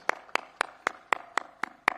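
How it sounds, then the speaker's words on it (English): Slow, evenly spaced claps, about eight in two seconds, from what sounds like a single person at an outdoor flag-off ceremony for the WRC Safari Rally 2024 at KICC in Nairobi; sparse and fairly near, with no crowd roar. "A big applause for this guy."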